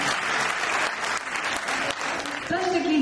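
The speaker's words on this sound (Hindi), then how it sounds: "जोरदार तालियां हो जाए इनके लिए।" Dense audience applause at a JLS Trust scholarship program event rolls on steadily, then a voice starts speaking as the clapping continues beneath her.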